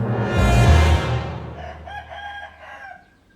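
A rooster crows one full cock-a-doodle-doo, loud and close, its call trailing off into a fainter tail of a few seconds.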